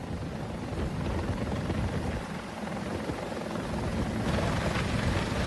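A helicopter used in a mountain recovery of bodies after an air crash, its steady loud rotor and engine roar filling the whole stretch without a break.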